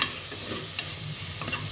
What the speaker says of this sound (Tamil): இதையும் போட்டு நீங்கள் நல்லா வதக்குங்க.